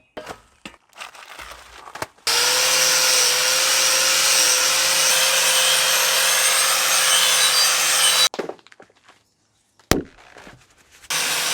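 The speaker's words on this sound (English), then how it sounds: "we'll wire wheel all this" A power wire wheel grinds rust off a metal part of a lifted Mitsubishi Delica L400 in one long, loud, steady whine of several seconds, framed by shorter scraping and handling noises before and after.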